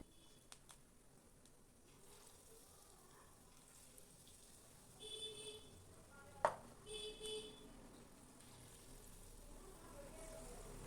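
Small pinches of ripe banana sweet bonda batter drop into hot oil, giving a faint, quiet sizzle with a few soft splashes and clicks scattered across the moment.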